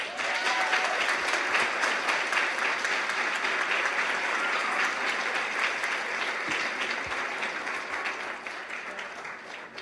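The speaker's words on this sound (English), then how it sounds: "they deserve another round of applause" Sustained applause from a large audience at a Junior Achievement banquet in the Cayman Islands, a dense steady patter of many hands clapping that tapers off slightly toward the end.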